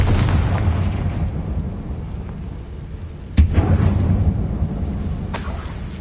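A Confringo fire spell from the video game Hogwarts Legacy bursts with a loud boom partway through, sitting over a dense, rumbling game soundscape, with a bright crackling flare near the end.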